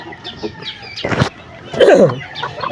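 Nearby hens clucking in short bursts, including a hen that did not go broody, with a louder squawk partway through and faint background noise.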